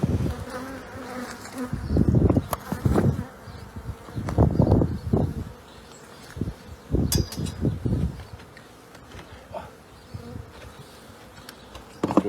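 Honey bees buzz in bursts while being removed from a chimney, loud swells of droning that come and go over a quieter background hum.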